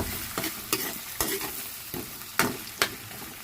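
Tomato sauce and ketchup are sautéed in a pan, a quiet sizzle punctuated by about seven sharp, evenly spaced spatula scrapes and knocks from steady stirring.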